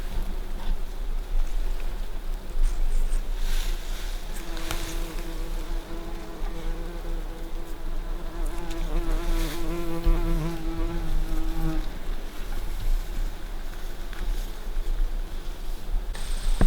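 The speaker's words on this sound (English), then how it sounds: "A couple bumblebees." A couple of bumblebees hover near a shrub outdoors, their low buzzing drone rising and fading as they move close to the microphone against a soft background hiss, with no talking.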